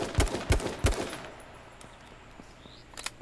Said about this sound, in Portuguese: Deixa eu ver se eu consigo acertar uns tiros nele